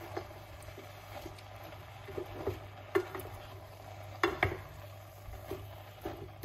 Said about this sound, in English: stir up everything together like this